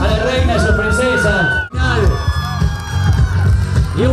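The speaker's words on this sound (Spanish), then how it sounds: "El fuerte aplauso para las demás aspirantes también" A crowd at a district carnival queen election cheers and applauds the queen candidates, a loud continuous roar of voices and whoops that briefly dips before swelling again.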